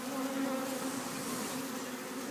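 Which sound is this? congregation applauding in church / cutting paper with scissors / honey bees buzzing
honey bees buzzing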